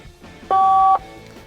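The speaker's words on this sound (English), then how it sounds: "Phone from the 90s." A single steady dialing tone lasting about half a second rings out clearly from a 1990s car phone inside a 1991 Rolls-Royce Silver Spur II, over a low, quiet cabin background.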